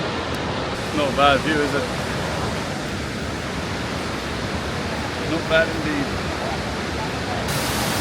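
A constant rushing roar of falling water from the Iguazú waterfalls fills the scene, with people speaking briefly over it.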